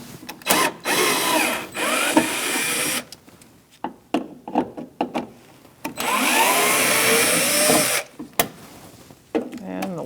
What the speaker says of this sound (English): Now we're going to take out these 3 Phillips head screws.